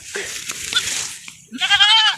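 Anglo-Nubian goats bleat loudly and close by, a wavering cry followed by a second, more tonal bleat, with some rustling around them.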